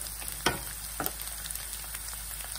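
Green chilies for a moong dal kachori stuffing fry in hot oil, a soft steady sizzle broken by two sharp stirring scrapes close by.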